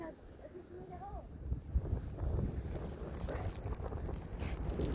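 Gusty wind during a snowstorm rumbles steadily against the microphone, rising in strength after the first couple of seconds, with faint background sounds mixed in.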